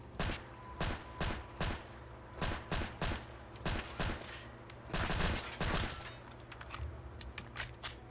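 Rapid volleys of HK P30L handgun shots from a Fallout 4 mod, about fifteen sharp, loud reports in a fairly even rhythm, with no talking.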